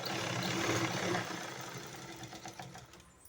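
Sewing machine stitching thread piping onto cloth, a steady close mechanical whir that is loud at first, then eases into a lighter running hum with faint rhythmic ticking.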